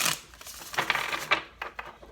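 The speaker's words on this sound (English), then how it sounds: "Last shuffle." Tarot cards are shuffled at close range, a quick papery riffle of rapid flicks and taps that fades toward the end.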